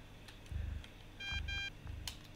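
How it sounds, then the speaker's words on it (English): Short electronic phone beeps in a video game sound faintly, two rapid tone bursts in the middle, set against soft low thumps and a quiet background. "I feel like the beeping of my phone would give me away to that guy"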